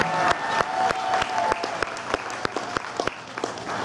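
Audience at a live gig in Broad Brook, Connecticut, applauding and cheering. Dense, steady clapping with sharp hand claps poking through continues for the full stretch, close and loud.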